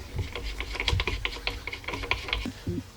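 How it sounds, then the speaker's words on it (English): Bolts holding a toilet seat are refitted during a bidet installation, making close, rapid clicking and rattling taps of metal and plastic with a brief low thump near the end. "Now I'll reinstall the bolts that hold on the toilet seat."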